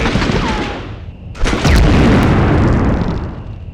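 A loud grenade explosion bursts out in the game Medal of Honor after a stretch of rumbling noise, followed by a sustained roar that slowly fades.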